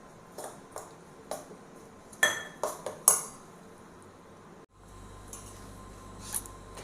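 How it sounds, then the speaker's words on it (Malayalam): Oats batter being mixed with milk in a bowl, a series of sharp spoon clinks and scrapes against the bowl, irregular and close, followed by a quieter stretch of soft stirring. "ഇതിലേക്ക് നമുക്ക് ഈ പാലൊഴിച്ചിട്ട് ദോശമാവിൻ്റെ പാകത്തിൽ ഈ ബാറ്റർ റെഡിയാക്കാം."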